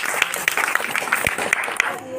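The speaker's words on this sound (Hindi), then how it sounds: "सभी लोग फिर से एक बार जो तालियां बजाएंगे इनके लिए" Brief, lively audience applause during a devotional Hindi storytelling performance, dense clapping with crisp individual claps and voices mixed in, close and fairly loud.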